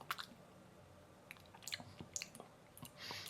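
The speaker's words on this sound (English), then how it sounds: "The biscuit part is very crunchy." Someone bites and chews a crunchy Marias lime biscuit close to the mic, with sparse, quiet crunches and squishy chewing sounds and no talking.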